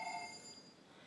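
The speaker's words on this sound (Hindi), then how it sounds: "एक फोन आया" A telephone rings once in a faint, distant electronic trill that fades quickly into quiet room tone.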